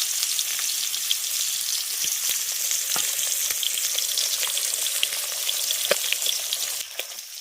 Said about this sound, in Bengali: তেল গরম হয়ে গেছে এবার মাছের মাথাটা তেলের মধ্যে দিয়ে দিচ্ছি